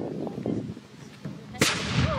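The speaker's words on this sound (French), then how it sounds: "Petit canon qui est fort." A small town-defence cannon fires one sharp, loud blast at a Vauban heritage-day animation, after a stretch of quiet crowd murmur and distant voices.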